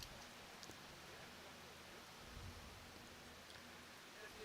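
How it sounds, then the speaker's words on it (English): Steady rain falls on trees beside an outdoor bowling green, a soft, even hiss of drops that holds at a constant low level throughout, faint and distant with no voices. "It's coming down quite steadily."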